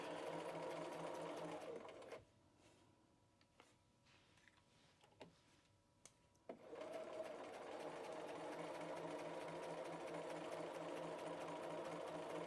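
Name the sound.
sewing machine stitching a facing seam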